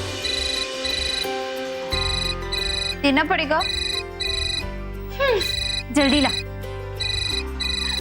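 A bright electronic phone ringtone plays in a repeating melodic loop, loud and close, with short bursts of speech cutting in between rings.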